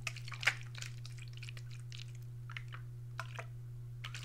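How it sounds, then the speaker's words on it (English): A 360 water spray bottle spritzing hair, with a few short, crisp hissing bursts close by, spaced irregularly over a steady low electrical hum and no talking. "water bottle spray thing"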